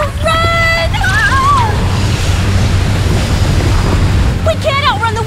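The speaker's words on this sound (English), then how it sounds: "The tide's coming back in." Cartoon ocean surf of an incoming tide rushes and roars steadily and loudly, with a windy wash throughout and short electronic chirping tones at the start and end.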